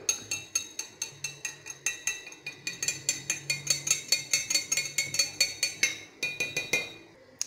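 A spoon clinks rhythmically against a bowl while stirring hot salted water for couscous, steady bright metallic taps repeating about three times a second, close and clear, with no talking.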